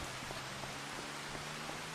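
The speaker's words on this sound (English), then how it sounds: "we could feed the animals in the rain because that doesn't ever stop" Steady rain falls in the Farming Simulator 25 video game, a continuous even hiss of drops without pause or talking.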